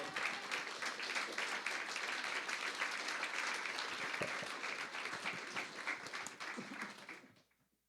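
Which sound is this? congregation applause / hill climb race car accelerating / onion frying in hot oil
congregation applause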